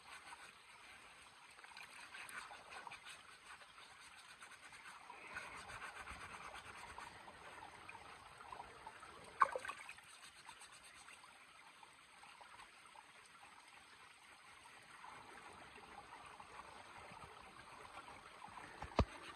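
Water trickles and splashes steadily while an old iron object is rubbed and washed, with a faint scraping texture and one brief knock partway through.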